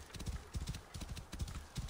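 Horse hooves clip-clop at a steady trotting rhythm in the video game Assassin's Creed Origins, quiet and alone, with repeated dull thuds.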